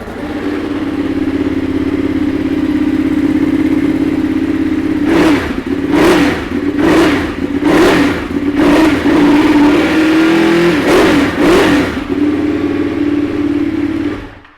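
A 2017 Ducati Panigale 959 with an Austin Racing exhaust idles loudly and steadily, then gets a run of sharp throttle blips, about seven quick revs rising over the idle before it settles again.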